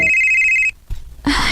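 A telephone rings in a Cebuano-language radio drama, one short bright electronic trill lasting under a second, followed by a brief pause and then a burst of other sound.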